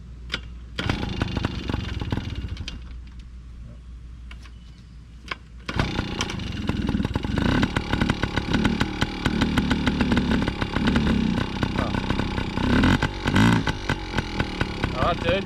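A petrol dirt bike engine runs close by, idling with a rough, buzzing rattle before revving louder and more unevenly, while people talk over it.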